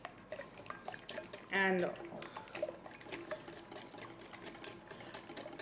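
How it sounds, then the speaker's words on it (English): Apple cider vinegar and other wet ingredients for bread are whisked in a bowl, a brief quick rattling burst near the start that then fades into softer clinks, with a voice speaking around it. "Apple cider vinegar, organic. We'll whisk all of this together."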